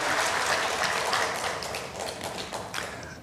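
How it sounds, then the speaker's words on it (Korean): A congregation claps during a Korean Sunday church service, a dense patter of hand claps that starts full and gradually thins and fades over a few seconds. "박수 주세요"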